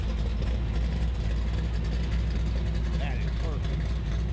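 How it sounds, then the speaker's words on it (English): A 1969 Chevy C10 street truck engine with a tinny rattle runs as a steady, close, low rumble, while people talk over it. "I like that little bit of a tin sound you get to it. You know that little rattle?"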